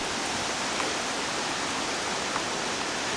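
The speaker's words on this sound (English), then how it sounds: "there's the waterfall up there" A waterfall swollen with snowmelt pours along the Cathedral Rock trail in a steady, dense roar of falling water that holds even throughout, with no voices over it.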